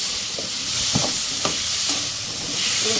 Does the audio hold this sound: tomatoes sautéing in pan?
yes